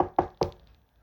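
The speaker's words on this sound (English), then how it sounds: "I hear a knock." Two sharp knocks on a door, about a quarter second apart, close and fairly loud, followed by quiet.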